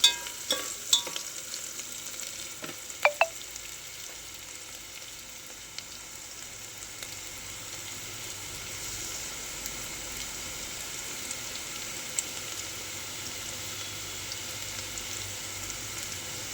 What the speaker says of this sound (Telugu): కొంచెం ఫ్రై అయ్యేంత వరకు మసాలా వేసుకుందామండి.